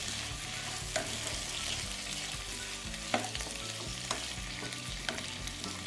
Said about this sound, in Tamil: இப்போ நம்ம கட் பண்ணி வச்சுருக்க தண்டுக்கீரையை இதனோட சேர்த்துக்கலாம். இதையும் சேர்த்து நல்லா நம்ம வதக்கி எடுத்துக்க போகிறோம்.